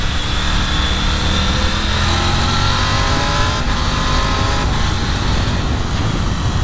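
A 2023 Triumph Tiger 900 Rally Pro motorcycle's triple engine pulls steadily under riding, with loud continuous engine and wind roar and gear-change shifts audible throughout, no speech.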